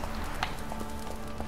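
Horse hooves trotting in The Witcher 3 video game, a soft, fairly even clip-clop rhythm repeating over a constant background hum, with no talking.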